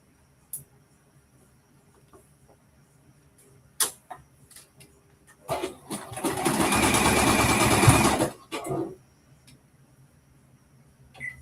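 A domestic sewing machine stitches the Maeve top, a continuous mechanical whirring burst of about two and a half seconds, framed by a few soft handling clicks and knocks in an otherwise quiet room.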